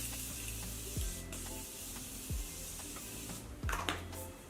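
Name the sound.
Morphe makeup setting spray being sprayed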